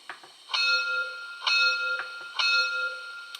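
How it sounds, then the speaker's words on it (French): A locomotive bell from an LGB 2080S model steam locomotive's ESU LokSound 5 XL sound decoder rings with repeated metallic strikes, three stronger peals at regular intervals with lighter taps between, clear and close. "Une cloche."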